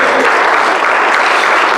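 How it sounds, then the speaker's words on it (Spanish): A church congregation claps loudly and steadily in a dense, continuous wash of applause that holds at full strength throughout, with no pause or voice rising above it. "Puedo darle fuertes aplausos que vive."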